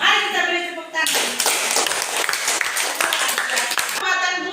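A class of children claps hands together in a dense burst of applause lasting about three seconds, loud and close, with a voice heard briefly before and after.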